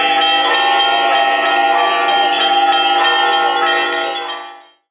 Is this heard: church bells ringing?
yes